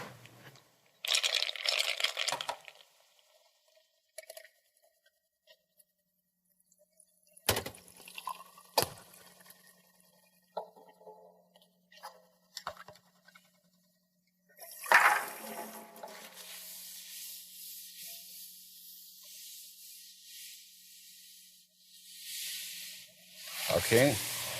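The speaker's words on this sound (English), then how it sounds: "take these two glasses over to the sink and fill them both almost full of water" Water runs and splashes from a sink tap into two glasses in separate bursts, with gaps, drips and a clink of glass, recorded fairly close, and some quiet room noise between fills.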